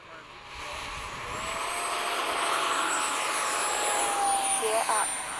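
An FMS 70mm F/A-18 model jet flies at an RC field in near-calm conditions, its ducted-fan whine rising steadily and holding loud throughout, with a faint high whistle sweeping across as it passes.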